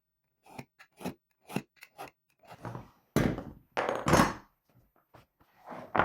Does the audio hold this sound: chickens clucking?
no